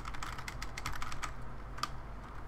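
Steady, rapid typing on a computer keyboard, with many soft clicking keystrokes in an even rhythm, close and fairly quiet, and no speech over it.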